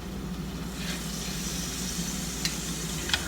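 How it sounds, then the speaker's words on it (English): Butter and minced garlic simmer in a pan, giving a steady, close-up sizzle with a soft bubbling hiss and a couple of faint clicks near the end. "Oh, it's simmering."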